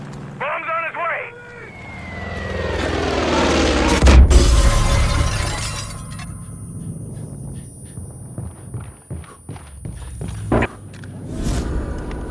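Bomb explosion in the video game Far Cry 5, a building roar that peaks in a heavy, low boom around four seconds and then fades, followed by scattered footsteps and impacts, with people talking before and after.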